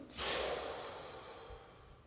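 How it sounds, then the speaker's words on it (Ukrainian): A powerful exhale in Kundalini yoga breathing practice: one forceful, breathy rush of air that starts sharply, then slowly fades over about two seconds, close and alone. "Потужний видих."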